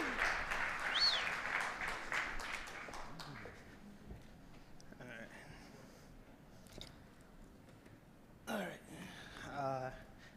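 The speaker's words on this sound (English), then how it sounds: "Give him a round of applause" Audience applause at a Litecoin cryptocurrency summit as a presenter comes to the stage; a dense burst of clapping at the start fades out within a few seconds, followed by quieter room noise, shuffling and scattered sounds.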